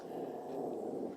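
A pet dog named Lily growls low and steadily at children playing outside, a close, continuous rumble lasting about a second.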